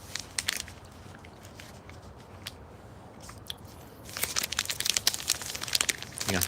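A Nature Valley granola bar wrapper crinkles close by in irregular bursts, growing busier and louder toward the end, with crunchy bites mixed in.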